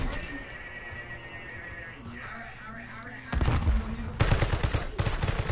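Gunfire in Call of Duty Black Ops 6 bursts in loud, rapid automatic volleys after a quieter stretch, with players talking over the shooting.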